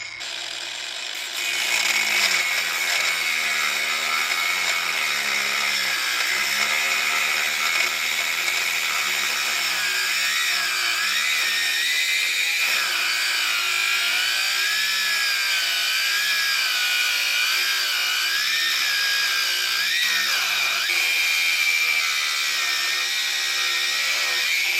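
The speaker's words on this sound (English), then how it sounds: "I'm going to be making my cut right now. I'm just going to use a basic hand tool, just chop it right off." A basic hand tool cutting through a Borgeson steering shaft for a 1980-1996 Ford Bronco or F-150, a steady grinding, ratcheting metal cut lasting over twenty seconds, loud and close with no talking.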